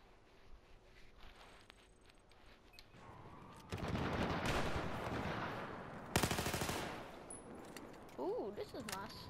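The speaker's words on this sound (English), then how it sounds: "Is this a submachine gun?" Submachine gun fire in a video game battle, with rapid automatic bursts growing louder midway, a sharp loud burst near the end of the second third, and a few softer rattles after, all over a low background.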